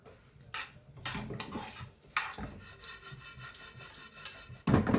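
Chia seeds being lightly dry-roasted in a pan, with scraping and rubbing strokes of a spoon across the metal surface, irregular scratchy sweeps and a louder clatter at the end, no talking.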